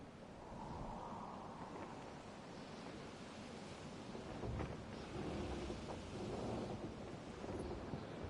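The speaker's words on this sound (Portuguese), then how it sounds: "Vai, tempestade." Thunderstorm with steady rain in the Final Fantasy XVI game, a broad hiss of downpour and wind with low rolling thunder swelling a few times, soft and distant overall.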